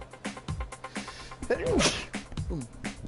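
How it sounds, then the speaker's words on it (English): One big sneeze erupts near the microphone amid a man's speech, sharp and short, over faint racing-game background sound from F1 2020. "Oh, that was a big sneeze coming up."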